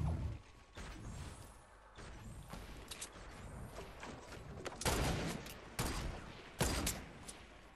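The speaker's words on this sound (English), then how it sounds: "Looks like they're shooting at people south" Gunfire in a multiplayer video game: sharp shots ring out now and then over a steady background rumble, several louder cracks near the end, no talking during it.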